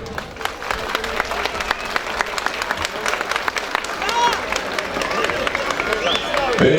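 A festival crowd gathered for a union event applauds in a sustained burst of clapping, with some crowd voices and murmur mixed in as the clapping carries on.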